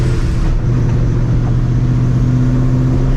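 Supercharged 1999-2004 Mustang GT engine running close by during a gear change through an MGW shifter, a loud, steady low drone with supercharger whine and no clear rev spikes.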